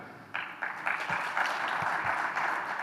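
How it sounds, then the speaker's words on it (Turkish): Audience applause at the Turkish Exporters Assembly's Innovation Week ceremony breaks out after a moment of quiet and holds steady as a dense, moderately loud patter of many hands for the rest of the clip. "Tüm bu başarılar büyük bir alkış hak ediyor."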